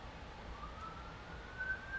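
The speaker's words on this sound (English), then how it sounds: "I don't know if you can hear all the sirens, like there's like ambulance in the background." Emergency vehicle sirens with an ambulance wail faintly in the distance, a thin rising tone drifting over a low background hush.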